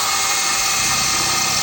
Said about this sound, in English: Now we just drilled here.